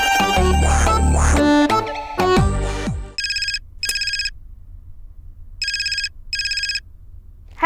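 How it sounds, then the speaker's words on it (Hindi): Telephone ringing for an outgoing call: a melodic ringtone-like tone first, then four short bursts of electronic ring trills in two pairs, clear and alone with no talking. "समीर फोन लगाता है।"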